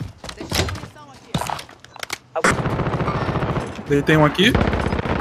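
Call of Duty Warzone gameplay with loud bursts of automatic gunfire, rapid repeated shots in several volleys with brief pauses between, while a player speaks Portuguese over the action.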